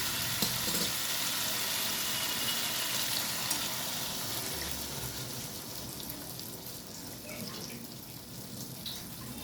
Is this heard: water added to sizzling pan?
yes